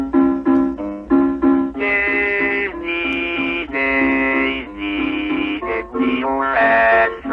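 Early 1960s computer-synthesized voice singing a melody, a buzzy, mechanical tone moving through sustained sung notes in a slow, steady phrase, heard alone without talking.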